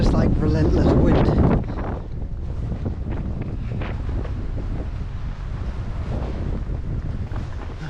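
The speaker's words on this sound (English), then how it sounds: "it's just like relentless wind" Strong, relentless wind buffets the microphone during a trail run on Sweden's Kullamannen 100-mile course, a loud roaring rumble that is heaviest in the first second and a half, then settles into steady gusting.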